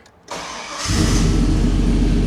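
An old truck with a cammed engine and a loud exhaust is cranked and fires up. A brief starter whir comes first, then the engine catches and settles into a loud, rumbling idle close by.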